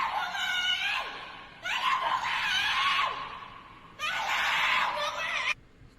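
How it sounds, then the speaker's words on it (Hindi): A person screams loudly in a horror short set at night, with long harsh cries broken by short pauses, near and dominating the sound. "भाई एक्चुअल में कोई चिल्ला रहा है बहुत बुरी तरीके से।"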